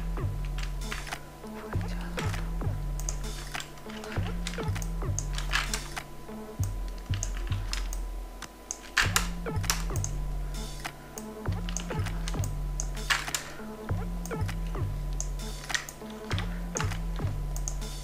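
Rapid clicky keystrokes on a computer keyboard rattle on continuously in uneven bursts and short pauses, close and moderately loud, entering a club name into a Photoshop banner design, with no talking.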